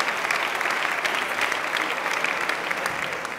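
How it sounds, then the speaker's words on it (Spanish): Sustained applause from an audience at a regional sports awards gala, honouring the champions; steady dense clapping throughout at even loudness, tapering slightly at the end. "Un aplauso a los campeones."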